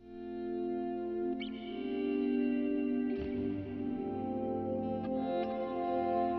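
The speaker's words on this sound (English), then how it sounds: "and now we've just got reverb." Electric guitar chords played through a reverb-only setting with the dry signal off ring out through heavy reverb, swelling in softly and washing together into a sustained, shimmering wall of sound.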